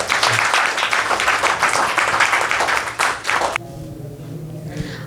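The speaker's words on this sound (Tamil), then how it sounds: "கைத்தட்டுங்க" Audience applause at a Tamil festival hall event in New Jersey, a thick burst of many hands clapping that runs loud for several seconds and then cuts off abruptly, leaving quiet room tone.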